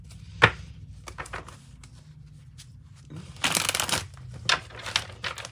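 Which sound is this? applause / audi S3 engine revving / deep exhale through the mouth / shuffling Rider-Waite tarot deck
shuffling Rider-Waite tarot deck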